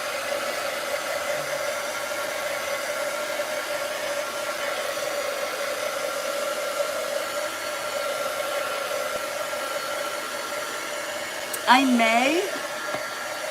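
A hair dryer blows steadily and loudly for most of the stretch, drying paint with a constant broadband whoosh and a faint hum. Near the end a brief voice cuts in over it.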